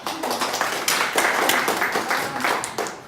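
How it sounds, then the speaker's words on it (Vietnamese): Audience applause at a salon hairdressing demonstration of a layered triangle haircut: a burst of dense clapping from a crowd, steady for about three seconds with no talk over it. "Bây giờ anh chị vỗ tay được rồi."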